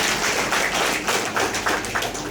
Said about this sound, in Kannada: ಅವ್ರಿಗೊಂದು ಜೋರಾಗಿ ಚಪ್ಪಾಳೆ ಬಂತು